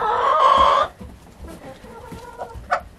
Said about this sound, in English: the chickens are going crazy for food